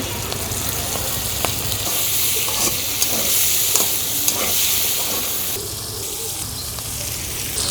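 Onions and green chilies hit hot oil with cumin tempering for a village-style river goby fish curry, giving a loud, dense, steady sizzle with occasional stirring clinks and scrapes close by.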